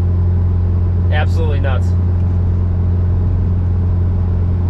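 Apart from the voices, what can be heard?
big turbo Mazdaspeed6 accelerating at wide open throttle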